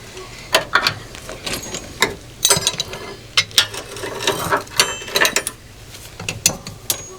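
A socket wrench ratchets on a truck in a rapid string of sharp metallic clicks, close and loud, coming in uneven bursts with short pauses and no talking.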